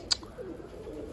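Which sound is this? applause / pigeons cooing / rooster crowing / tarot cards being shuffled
pigeons cooing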